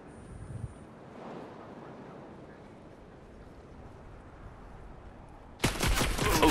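Gunfire in the video game Fortnite: after several seconds of quiet background hiss, a loud, sharp burst of rapid shots erupts near the end and keeps going.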